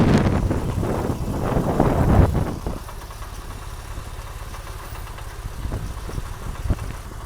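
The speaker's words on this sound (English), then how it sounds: "And now we've got exhaust, dual exhaust on either side." A 2002 Porsche 911 Targa with dual exhaust outlets runs near the microphone: a louder, pulsing engine burst at first, then a steady low idle rumble with some wind noise.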